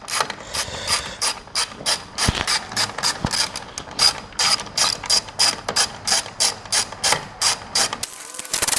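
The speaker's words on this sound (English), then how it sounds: "It's a 10 millimeter. So we are just going to unscrew these." A hand ratchet clicks rapidly and steadily while loosening 10 mm bolts on a Ford F-150 Tremor grille, a dense run of close metallic ticks with brief uneven pauses.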